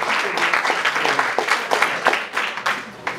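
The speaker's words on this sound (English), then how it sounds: "Round of applause for Katie, please" Audience applause for an award winner at a school good-news assembly, a steady wash of many hands clapping close by with scattered sharper claps rising through it, lasting the whole moment without talk.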